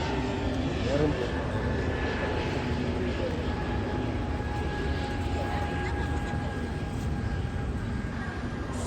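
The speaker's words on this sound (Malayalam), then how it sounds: "എത്രത്ര മോഹങ്ങളുമായിട്ട് പറക്കണ ഫ്ലൈറ്റ് ആണല്ലേ" An airplane drones overhead with a steady engine roar and a sustained whine, while people talk nearby.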